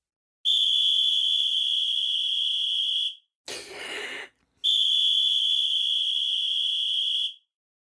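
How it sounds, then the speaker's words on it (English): Two long, piercing whistle blasts, loud and close, separated by a short breathy pause. "He lifts a coach's whistle, blowing it deafeningly into Greg's face."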